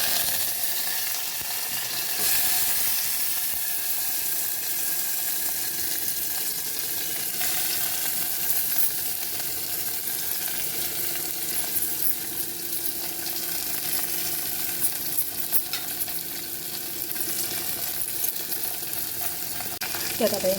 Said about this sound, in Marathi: आता आपण फोडणी देऊया.